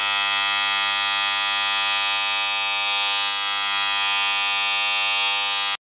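Wahl Professional US 110-volt electric hair clippers running through a 220-to-110-volt converter, producing a loud, steady, even buzz that holds without wavering for several seconds and then cuts off abruptly.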